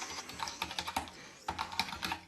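Rapid, uneven clacking of keys on a computer keyboard, close and steady with no talking.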